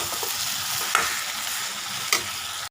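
Potatoes frying in oil in a pan, a continuous close sizzle broken by two sharp scrapes of a spoon stirring them, with no voices.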